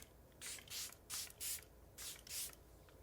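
Charlotte Tilbury setting spray misted in six quick bursts, one after another in two groups of three, each a short close hiss with brief pauses between.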